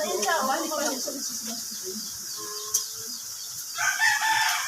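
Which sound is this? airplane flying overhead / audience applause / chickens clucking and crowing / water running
chickens clucking and crowing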